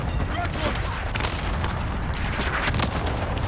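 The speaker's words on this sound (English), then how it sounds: "Cluster strike incoming" Cluster strike explosions in Call of Duty: Warzone, a steady dense rumble of overlapping booms and crackling blasts throughout, with voices talking over the barrage.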